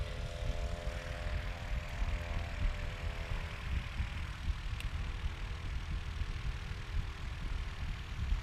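A STOL airplane rolls out toward the pits during competition practice after a mechanical issue, its propeller engine giving a steady, fairly distant droning hum with a faint tonal whine throughout.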